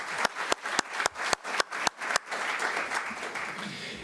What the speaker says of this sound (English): I'd like to ask John Hammond and his team to please stand for a round of applause